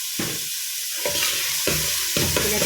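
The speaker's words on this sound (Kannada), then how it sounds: "1 ಸ್ಪೂನು ಉಪ್ಪು ಫ್ರೈ ಮಾಡ್ತೀವಿ" A spoonful of salt fried with onions in a pan for Mangalorean bondaas sukka: a soft background sizzle broken by four separate bursts of spatula stirring and scraping.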